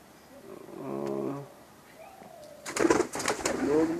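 Pet pigeons kept in a home setup coo nearby, a soft rounded call followed later by fluttering and scuffling sounds, with someone talking in between.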